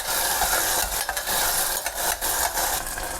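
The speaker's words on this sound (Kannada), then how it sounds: "ಆನಿಯನ್ ಚೆನ್ನಾಗಿ ಫ್ರೈ ಆಗಿದೆ." Chopped onions sizzle steadily in hot oil in a pan, with a spoon scraping and stirring through them in irregular strokes, close and continuous.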